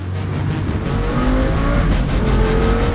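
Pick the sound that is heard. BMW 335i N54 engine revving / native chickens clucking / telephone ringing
BMW 335i N54 engine revving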